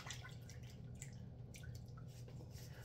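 Water drips and splashes faintly and close by as a face is wetted with cold water during a shave, with a low background hum under soft, scattered droplets.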